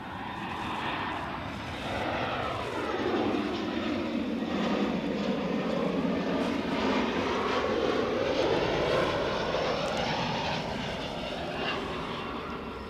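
An EasyJet airliner passes at Edinburgh Airport with a little Cessna close behind. A loud, continuous engine roar swells and then fades as the aircraft goes by outdoors, with no talk over it.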